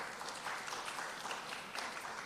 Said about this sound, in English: Please give the man a big, big clap now.